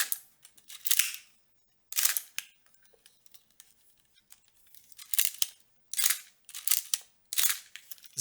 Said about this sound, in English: I can use a quick shutter for you guys to listen to the shutter sound.